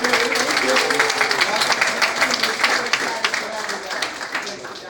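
A room of staff at a strength and conditioning team meeting gives a steady round of hand clapping for newly introduced fitness supervisors, crisp and continuous from start to finish, then gradually thinning out.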